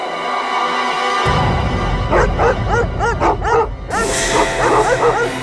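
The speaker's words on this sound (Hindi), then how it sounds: "कुत्तों के भौंकने की आवाज पीछे की तरफ से आ रही है।" Several dogs barking and yipping together in rapid, overlapping bursts over a steady background hum, fairly loud and close.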